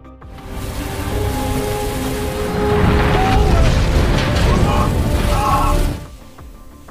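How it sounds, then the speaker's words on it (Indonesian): Explosions in the 2012 disaster film The Tower, a Christmas-night catastrophe, as blasts grow larger and the wooden floor gives way: a dense, roaring burst of destruction sustained for several seconds before dropping off abruptly. "Ledakan terjadi semakin besar, hingga kayu yang mereka pijak hancur."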